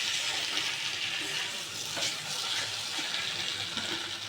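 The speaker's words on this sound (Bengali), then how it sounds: "বেগুন আর আলু কষানো হয়ে গেছে, এবার জল দিয়ে দিলাম" Water pours steadily into a pan of eggplant and potato curry, a continuous soft gush at low volume.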